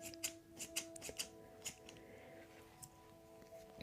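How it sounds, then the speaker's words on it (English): Several crisp snips of wooden scissors cutting hair, close and quiet, spaced unevenly with brief pauses between cuts. "the wooden scissors always sound so good"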